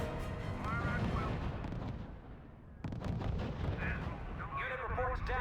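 Artillery and gunfire in the RUSE strategy video game: heavy booming blasts and crackling shots roll through a loud battle din, briefly easing before resuming, with radio-style voices reporting over the fire.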